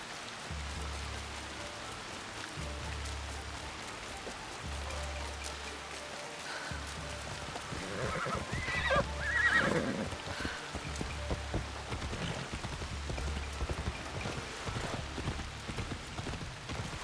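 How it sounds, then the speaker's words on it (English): Steady rain patters in the video game Assassin's Creed Shadows, with a rhythmic clip-clop like hooves repeating underneath and a brief louder burst of effects midway. "Come on, video game. Why did you have to be raining right now?"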